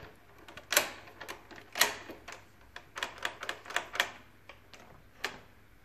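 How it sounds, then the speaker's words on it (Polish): Sharp metallic knocks from a hammer striking the cylinder of a door lock, about a dozen irregular taps, some spaced and some quick in succession, close and crisp against a quiet background. "Kilkukrotnie uderz młotkiem w bębenek wkładki bębenkowej"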